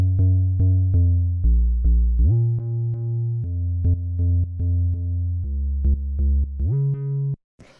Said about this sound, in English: this bassline here sounds like this on its own.